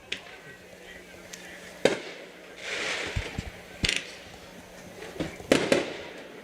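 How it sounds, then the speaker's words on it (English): Fireworks bursting outside a high school football game at night, several sharp cracks and pops spread out at intervals, some loud and some more distant, over a low crowd murmur. "We got fireworks going off all night so far."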